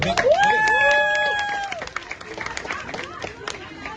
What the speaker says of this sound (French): s'il vous plaît, un gros applaudissement pour la maman d'Ariana